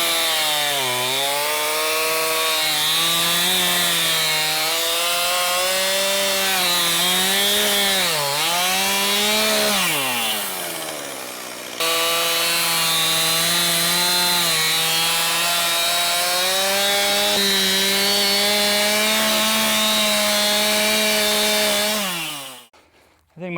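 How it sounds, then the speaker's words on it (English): A chainsaw roars loudly and continuously while cutting dead trees, its engine pitch dipping and rising under load, with one brief break before it cuts out. "Once my chainsaw is warm,"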